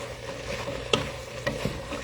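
Soft stirring of Asian chicken noodle soup in a pot, a low simmering bubble with a few light scrapes and clinks of a utensil, quiet and close, no talking.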